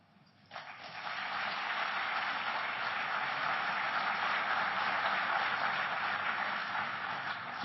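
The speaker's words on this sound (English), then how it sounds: "let's give him a round of applause for participating in this session" An audience at a formal Moscow session applauds steadily, a dense, sustained wash of clapping that swells in after a brief quiet start and holds loud and even to the end.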